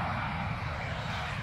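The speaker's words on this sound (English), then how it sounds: "there's a plane that's taking off" A fixed-wing airplane taking off near an airport makes a continuous, broad engine roar that stays steady and fairly loud throughout, with no talk over it.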